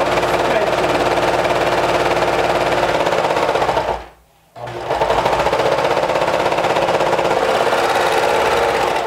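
A sewing machine stitches a seam down in a fast, steady mechanical chatter, running loud and close, pausing briefly midway before resuming at the same pace.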